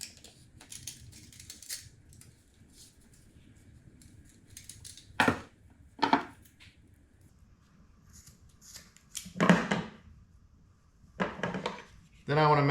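Scissors snip reflective cordage in a few separate crisp cuts spread out over quiet stretches, with faint handling noise and a little talk in between.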